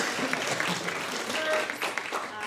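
At a distinguished ethics lecture, an audience gives warm, sustained applause, a dense patter of many hands at moderate volume without a break.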